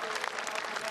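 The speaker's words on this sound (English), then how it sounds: "everyone here at Pukekohe giving him a round of applause" A crowd at Pukekohe race track claps briefly, a brisk, fairly distant round of applause.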